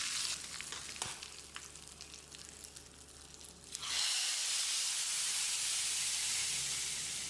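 Faint crackling and popping of hot oil, then a sudden loud sizzling hiss as the tempering with curry leaves and asafoetida hits pepper rasam and steadily fades.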